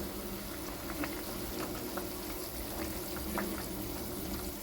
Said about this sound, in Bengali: ঝোলটা খুব ভালো করে ফুটিয়ে নেব